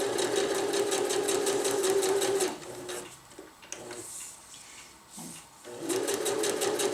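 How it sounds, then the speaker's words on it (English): A sewing machine runs a single rolled hem seam on fabric for a hammock underquilt protector, its rapid steady stitching close and continuous, pausing briefly in the middle before starting up again. "just run a seam down on the single rolled hem"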